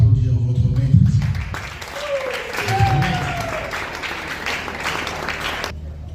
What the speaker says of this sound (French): est-ce que vous pouvez applaudir votre maître?